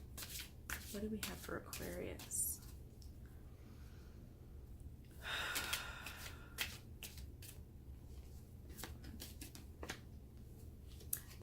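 Tarot cards are riffled and shuffled in quick papery bursts, then a softer flurry of shuffling, with a person speaking briefly and quiet handling between.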